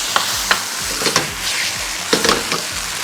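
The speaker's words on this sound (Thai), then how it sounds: "เดี๋ยวผมจะผัดให้เขา น้ำงวดลงไปหน่อย ใช้ไฟแรงหน่อยครับ" Crispy fried snakehead fish being stir-fried over high heat with holy basil, red chili and sauce: a loud, steady sizzle with repeated scraping strokes of a spatula against the pan, close up and without voices.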